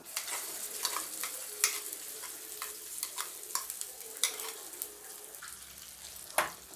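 Spoon stirring through thick ground mango chutney in hot oil, with repeated soft scraping strokes over a low sizzle, no talking.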